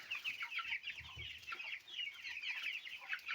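Cobb 500 broiler chicks that recently recovered from illness cluck and cheep in a busy, overlapping chorus that continues steadily, with no talking.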